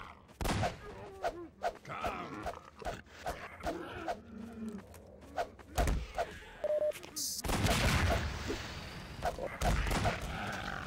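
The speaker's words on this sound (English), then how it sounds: "It seems like a lot of bullets." Rapid gunfire in the shooter game Half-Life 2, dense repeated sharp shots and bursts with a loud sustained stretch of firing, mixed with other game sounds and effects.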